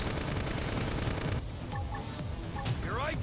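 During a battle in Xenoblade Chronicles X, a grenade blast and gunfire make a dense, continuous rumble of shots and explosions, with sci-fi electronic sweeps layered in toward the end.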